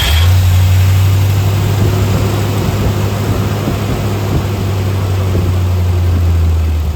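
A 1971 Corvette V8 idles steadily after a cold start, a loud continuous low rumble with a fast-idle drone and no talk over it.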